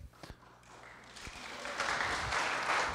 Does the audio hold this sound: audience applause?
yes